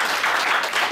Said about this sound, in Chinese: 给自己一个热烈的掌声。